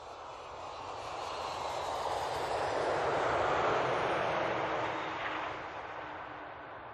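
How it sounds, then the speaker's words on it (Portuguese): An airplane arriving on the island of Madeira passes by, its steady engine roar swelling gradually to a peak near the middle, then easing and fading away. "Agora vêm de avião."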